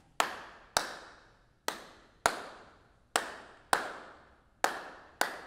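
Single sharp hand claps in a gospel church rhythm demonstration, eight crisp strokes spaced about two-thirds of a second apart, each ringing briefly in a roomy space, alone with no talk.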